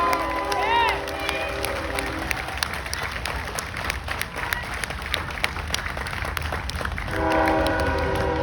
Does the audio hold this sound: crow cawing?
no